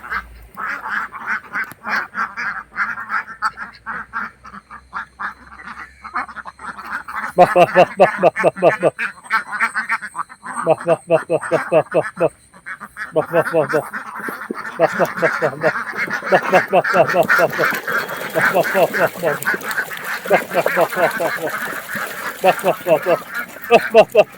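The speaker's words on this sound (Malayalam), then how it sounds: "മനോഹരമായ താറാവ് കൂട്ടങ്ങൾ" A flock of Kuttanad ducks in Kerala quacks loudly and continuously nearby, many overlapping calls in rapid bursts, with occasional talk mixed in.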